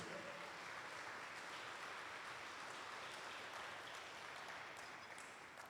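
Church congregation giving God a strong round of applause, a dense sustained clapping wash from a crowd at some distance, steady for several seconds, with faint voices mixed in.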